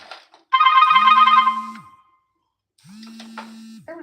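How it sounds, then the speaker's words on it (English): A telephone rings twice in a quiet workspace, each time a loud, close electronic trill lasting over a second, separated by a short silence. "Every time I get on this phone, be ringing."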